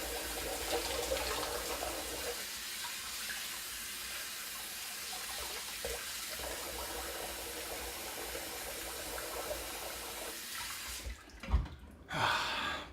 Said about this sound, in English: Get myself a quick rinsing.